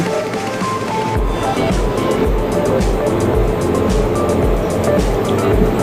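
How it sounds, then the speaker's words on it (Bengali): Fast wooden boat speeding along a river near Shubhlong in Rangamati, a loud steady engine drone with rushing water and rhythmic hull thumps against the waves, close and continuous. "নৌকাগুলো অনেক স্পিডি মানে অনেক অনেক দ্রুত যায়"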